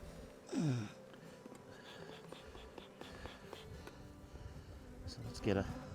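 Honey bees buzz around a hive frame in a three-frame mating nuc, a soft close drone with a couple of louder passes as bees fly near, under quiet background.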